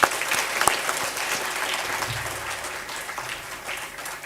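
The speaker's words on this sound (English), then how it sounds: "A big applause for the parents." A large audience at a degree certificate distribution ceremony applauds the graduates' parents with dense, continuous clapping that stays fairly loud and even throughout.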